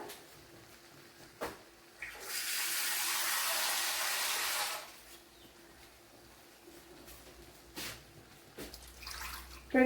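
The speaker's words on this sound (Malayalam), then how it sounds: "ഇനി ഇതിലേക്ക് ആവശ്യത്തിനുള്ള വെള്ളം ഒഴിച്ചു കൊടുക്കുക" A steady stream of water pours into curry paste for a couple of seconds, a broad hissing splash, with a few light clicks and knocks before and after.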